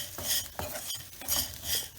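Asafoetida tossed with roasted urad dal in a pan on the stove while making coconut podi, heard as repeated scraping and stirring strokes of a spatula against the metal with faint sizzling, close and steady, no talk.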